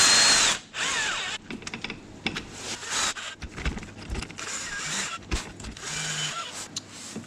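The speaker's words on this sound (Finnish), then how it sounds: "Aina jos kiristää porakoneella, niin alussa pitää varmistaa, että se lähtee siihen kierteelle oikein." A cordless drill runs in short bursts and longer whirs while it tightens small clutch spring bolts on an AM6 moped engine in a workshop. Metallic clicks and handling noises fall between the bursts, and no one speaks.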